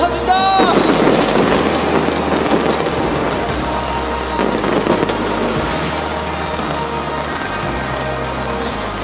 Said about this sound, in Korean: 불꽃놀이는 박자 끝까지